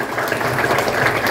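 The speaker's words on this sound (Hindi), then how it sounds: "सभी तालियों से उनका स्वागत करें।" An audience claps to welcome a presenter at a personal finance talk in Rajkot, Gujarat, a short burst of dense, steady applause filling the room.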